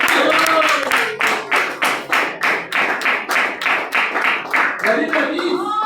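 A church congregation claps in unison in a steady, evenly spaced rhythm, about a dozen sharp loud beats in a row, with voices faintly underneath.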